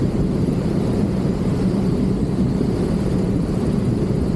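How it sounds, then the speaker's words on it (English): Small airplane in a forward slip on final approach to a soft field at Tieton State airport, a loud, steady engine and wind roar that stays constant throughout, heard close from inside the cockpit with no talking. "At this point I knew I was a little high, so I started forward slipping the airplane to lose some altitude."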